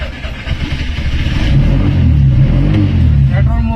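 A CNG car switched to petrol mode, with a warning light staying on, cranks and starts, then its engine rises into a close, loud, steady revving hum that holds to the end, while a voice speaks briefly at the start.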